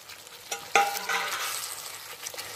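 Fried onion stirred into Mughlai chicken frying in a pan, a steady sizzle with a sharp scrape of the spoon near the start and continuous stirring after.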